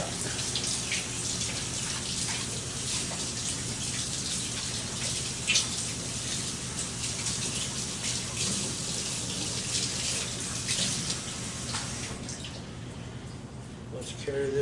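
Tap water running steadily while hands are washed, with splashing into a sink that stays near and continuous throughout while a person talks.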